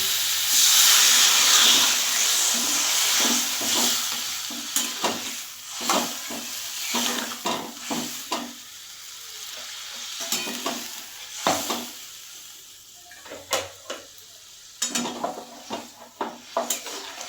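An eggplant and potato curry hisses loudly in a pan as water is added, the sizzle easing into a simmer while a spoon scrapes and clanks against the pan in irregular stirring strokes.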